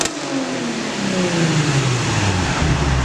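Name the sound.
car with new loud aftermarket exhaust revving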